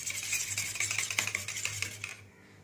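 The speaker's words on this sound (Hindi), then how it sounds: "इसे कर लेंगे हम दही में अच्छे से मिक्स।" A spoon stirs nigella seeds and fenugreek into a bowl of homemade yogurt for a hair mask, giving a steady run of soft clinks and scrapes against the bowl. The stirring is close and alone, then stops near the end.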